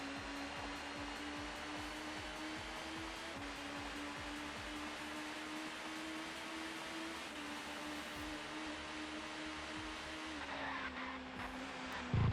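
Touring car in the ToCA Touring Car Championship video game at Donington Park, a continuous high engine whine with a sustained tire scrub as it slides, no voices.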